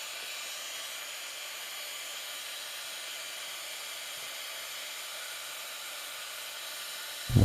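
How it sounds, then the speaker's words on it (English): A heat gun warms silver earring settings before soldering, giving a steady, close airy hiss that holds constant throughout and ends with a brief knock. "use my heat gun to start heating up the settings"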